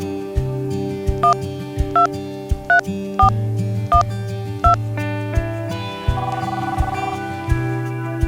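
A phone being dialed, a series of short, evenly spaced keypad tones over a sustained musical background, with no speech.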